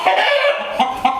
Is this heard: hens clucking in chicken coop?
yes